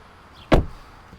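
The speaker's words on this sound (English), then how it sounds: "So the doors are nice and solid, and they sound solid when you close them." A single solid thump as the door of a 2021 Audi Q5 45 TFSI quattro shuts close by, short and dull, with no one talking.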